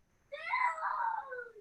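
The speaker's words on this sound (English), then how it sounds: "As a kid screams in the background." A child screams with a long, rising and falling wail-like cry in the background, lasting over a second, clear and fairly loud.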